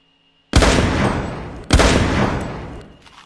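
Two loud, close gunshots from a gun in a Roblox game break a near silence, the second about a second after the first, each followed by a long decaying rumble.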